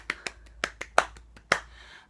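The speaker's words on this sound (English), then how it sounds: "Round of applause." A single person clapping hands in a quiet room, about eight sharp, separate claps at an uneven pace, close and moderately loud.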